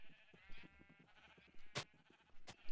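Sheep in pens in Minecraft bleat in a few short, wavering calls scattered over soft background sounds, with sharp clicks breaking in now and then.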